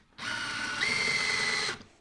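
A cordless power drill spins up and drives a screw bit into a piece of timber, a steady whining motor burst of under two seconds that rises slightly in pitch midway, close and alone.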